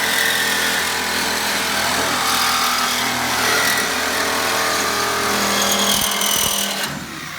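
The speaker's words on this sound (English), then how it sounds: "Give me the Sawzall." A Sawzall reciprocating saw cuts into the steel body of a 1964 Ford Fairlane race car, a loud, steady buzzing rasp that runs nearly without pause and tapers off at the end.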